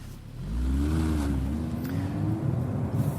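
A deep V8 engine drone from a 2016 Audi R8 holds steady throughout, with a rising and falling harmonic whine as revs swell, loud and close, no voices.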